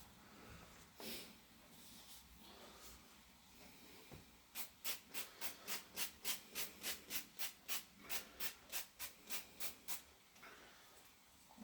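Mexican food crackling in a pan, a low fizzing sizzle broken by a long run of sharp, rhythmic scraping strokes in the middle, close and fairly loud with no talk.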